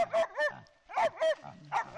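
A dog barks in a rapid sequence of about five sharp barks, arriving in two quick pairs and a final single, close and clear.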